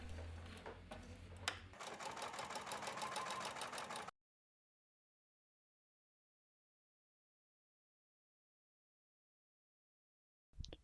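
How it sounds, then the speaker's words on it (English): A sewing machine top-stitches a coin pocket onto jeans in a quick run of rapid, ticking stitches lasting a couple of seconds, followed by silence and a brief final burst. "Top stitch the coin pocket in place"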